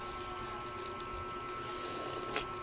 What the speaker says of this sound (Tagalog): Lagyan natin ng suka para sumarap.